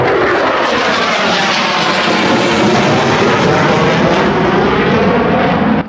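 Blue Angels jets flying over Seattle, a loud, continuous broadband engine roar that holds steady for several seconds and drops off abruptly at the end.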